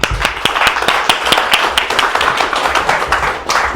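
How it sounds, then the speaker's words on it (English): An audience at a Las Vegas tech meetup demo night claps for the presenters, a lively round of many hands with distinct sharp individual claps standing out close by. "let's give both of our presenters a huge round of applause"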